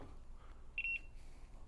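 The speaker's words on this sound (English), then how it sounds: "Our buzzer has sounded." A cooking timer buzzer on a griddle setup gives a short pair of faint electronic beeps over quiet background noise, no talking.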